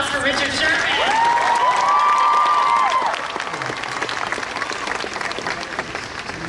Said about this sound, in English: So please a round of applause for Richard Sherman.